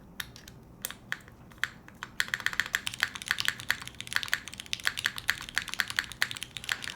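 Typing on a SingaKBD Kyohaku custom mechanical keyboard, a steady run of close, crisp keystrokes that starts sparse and grows dense and busy after the first couple of seconds, with no voices.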